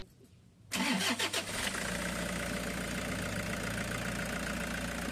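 A Toyota Hi-Ace Grandia van engine cranks and catches about a second in, then settles into a loud, steady idle that runs to the end.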